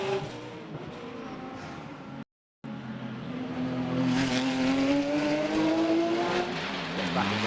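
A GT race car accelerates hard through its gears during Macau GT Cup practice on a street circuit, the engine note climbing loudly and steadily after a brief dropout.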